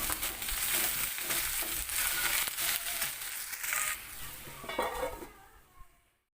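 Okra curry with eggs sizzling in a pan while a spoon scrapes and stirs through it, a continuous frying hiss with scraping strokes, close up, fading out at the end.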